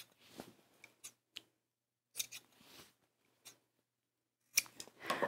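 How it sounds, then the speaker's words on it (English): Pinking-style scissors snip across the corners of sewn fabric: short crisp cuts in irregular clusters with quiet pauses between, close and alone without talk. "preformer scissors and snip across the corners."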